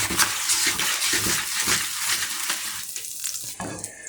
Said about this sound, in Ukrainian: Зараз ми дамо туди трохи вершкового масла